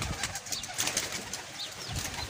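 A pigeon coos softly amid outdoor background noise and other chirping birds, its low calls repeating briefly in a short, busy stretch at a Faisalabad pigeon-catching spot.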